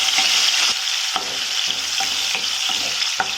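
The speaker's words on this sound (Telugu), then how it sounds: "టమాటో ముక్కల్ని వేసుకోవాలి వేసుకొని బాగా కలపాలి" Tomato pieces stirred into fried onions in a frying pan for chicken fry: a loud, close sizzle broken by regular spatula scrapes every half second or so, with no talking.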